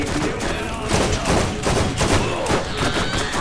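Rapid bursts of gunfire from the video game Borderlands, loud and dense, with repeated thumping shots running continuously throughout.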